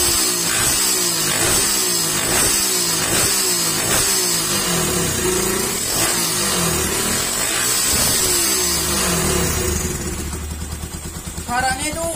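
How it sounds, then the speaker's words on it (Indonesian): Yamaha Vixion motorcycle fitted with a scooter exhaust, revving repeatedly in loud rhythmic bursts of deep engine roar, close to the microphone, with the engine note falling away near the end. "Bisa dilihat lagi knalpotnya seperti apa dan suaranya kayak gimana."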